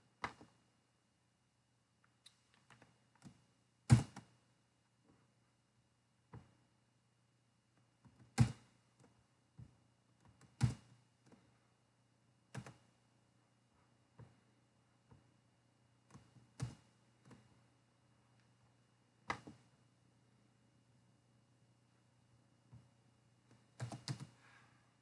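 A computer keyboard typed in scattered sharp bursts and single clicks, separated by quiet pauses over a faint steady hum, with no voices.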